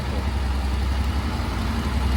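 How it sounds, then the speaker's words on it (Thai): A Honda X-ADV 750 scooter engine idling just after starting, a steady low, even rumble running close and continuously without speech. "สตาร์ทให้ฟังเสียงเครื่องยนต์ครับ เครื่องยนต์เดินดีนะครับ"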